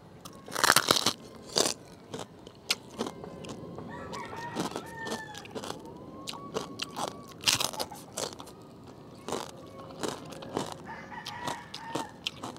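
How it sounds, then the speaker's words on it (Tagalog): Loud, close crunching bites and chewing of a giant crispy backfat chicharon eaten outdoors, sharp irregular crackles repeating throughout, with rooster crows and clucking audible in the background and no talking. "Para akong kumain ng sobrang laki na chicharon. Talagang malutong at saka masarap."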